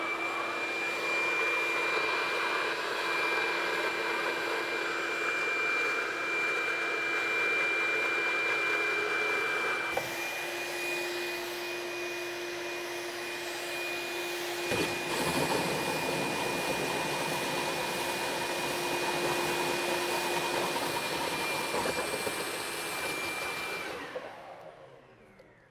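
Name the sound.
vacuum cleaner running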